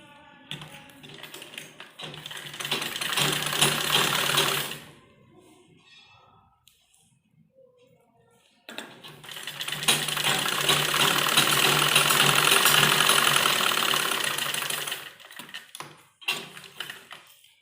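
Sewing machine stitching a folded fabric strip for a kurti, running in two steady whirring, rapidly ticking bursts, the second longer, with quiet pauses and handling noises between and after them.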